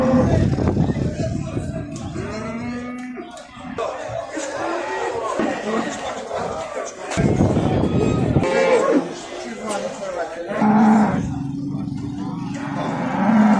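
Cattle and calves low repeatedly amid a busy crowd, with people talking and calling throughout a noisy outdoor livestock market selling sheep, goats and cattle.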